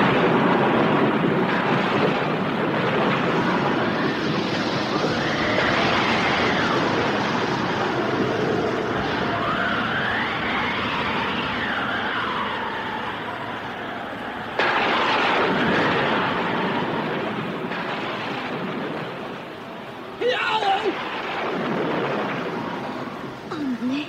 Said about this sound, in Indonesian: Angin datang menderu-deru, petir datang menyambar-nyambar, dan hujan tumpah dengan derasnya.